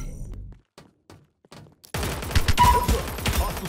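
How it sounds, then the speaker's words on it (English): Gunfire in the battle royale video game Apex Legends breaks out suddenly after a quiet stretch of soft game sounds, turning into a dense, loud run of rapid shots that carries on to the end. "We'll find out in just a moment when I start getting shot at."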